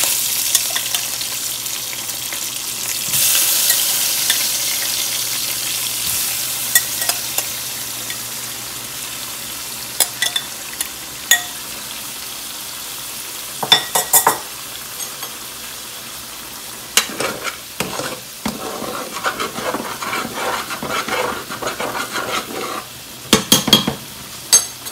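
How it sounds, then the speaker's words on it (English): Conch pieces coated in tomato paste sizzle in a pot for Haitian stew conch, with intermittent scraping and clinks of a utensil stirring against the pot over steady frying noise. "You're just gonna move it along inside of your pot like this. Just coat it with the tomato paste."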